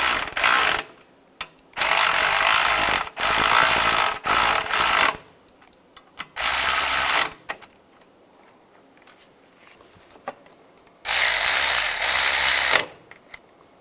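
A power ratchet snugging bolts on the inverter radiator bracket of a 2010-2015 Toyota Prius whirs loudly in four close bursts of one to two seconds each, separated by quiet pauses.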